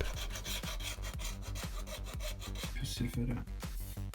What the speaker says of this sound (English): So I apply some more spot putty and sand it down again.